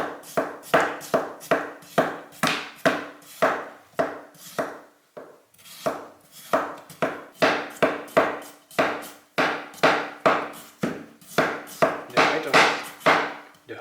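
A cheap Damascus kitchen knife slices through a potato in a steady run of about twenty crisp, close cuts, each a sharp scrape-and-tap against the board, with a short pause midway.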